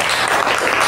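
Applause from a classroom audience at the close of a group presentation during a teacher training performance test, dense and steady clapping filling the whole short moment without any voices.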